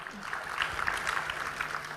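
An audience at the launch of the National ICT Job Fair gives a brief, moderate burst of applause, scattered hand claps at a middle distance.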